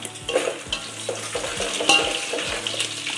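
Browned onions and six green chillies frying and being stirred in a pan for Nellore fish curry, a steady close sizzle with repeated scraping stirs and light utensil clinks.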